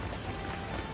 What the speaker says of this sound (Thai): นี่ฝนตก